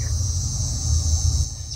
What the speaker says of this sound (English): the echoes of cicada and the birds